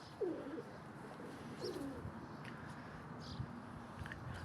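Pigeons coo softly in a few short bursts amid a steady background hiss, with faint chirps from other birds farther off.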